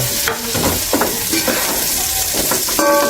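Onion frying in a pan, a steady sizzle with repeated scraping and stirring strokes of a utensil against the pan, close and fairly loud, with a few light clinks of cookware.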